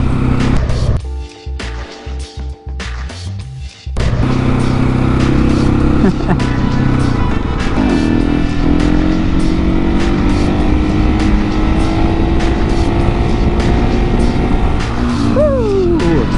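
A motorcycle engine revs hard through a casual wheelie, rising into a loud, sustained roar after a brief choppy start, with the pitch climbing and wavering as the throttle is held and a quick rev flourish near the end.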